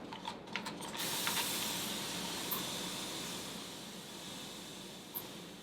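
A spray bottle mists water onto hair in one long, steady, hissing spray close by. A few short clicks from the trigger come before it and one comes near the end. Nobody talks.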